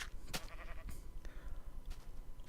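Blocky Minecraft sheep bleat several times at irregular intervals on a farm, short nasal calls over a steady low background hum, with no talk.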